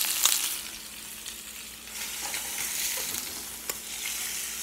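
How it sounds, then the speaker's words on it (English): Food frying in a pan for breakfast, a steady hiss of sizzling fat with a few soft clicks and scrapes as it is flipped, close and moderately quiet with no talk. "I'm gonna flip this a couple more times"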